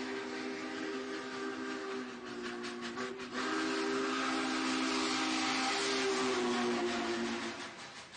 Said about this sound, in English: Train sounds. Train sounds!